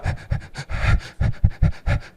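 A voice imitates short, rapid, irregular breathing, about a dozen quick loud pants in an uneven rhythm, close to the microphone.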